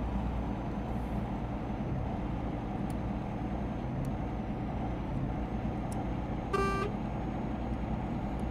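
A heavily loaded truck in Euro Truck Simulator 2 with a low-power engine gives a steady, droning low rumble throughout. A brief tonal horn-like blip sounds near the end.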